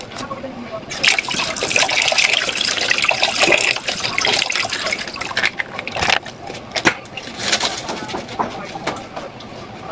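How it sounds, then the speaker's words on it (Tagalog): Tomato sauce pouring into sweet and sour chicken fillet in a pan, a wet trickling and gurgling stream heard close up with some clinking, while a person talks over it. "Ilagay na tayo ng tomato sauce para sa sweet and sour na chicken."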